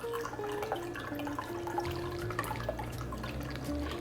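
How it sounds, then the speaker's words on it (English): A Gin-ger Bee cocktail with honey poured through a strainer, giving a soft, quiet trickle and scattered drips of liquid that run steadily for a few seconds. "I'm going to carefully pour this out because it's a pretty strainer"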